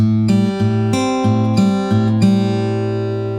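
An acoustic guitar fingerpicking pattern, single plucked notes rolling in a steady repeating rhythm, close and clear with no voices.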